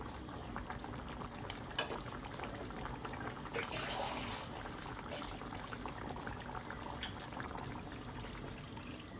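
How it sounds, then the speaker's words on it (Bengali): Water is poured into a simmering rui fish curry with bay leaves and green chillies, a soft bubbling and splashing pour under a steady boil, fairly quiet and continuous throughout. "আমি পানি দিলাম, আর একটু মনে হয় লাগবো পানি"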